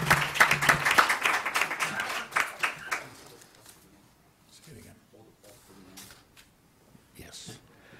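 Audience applause at a Briarcliff Manor candidates debate, a burst of clapping loud at first that fades out within about three seconds, followed by quiet room noise and faint scattered sounds.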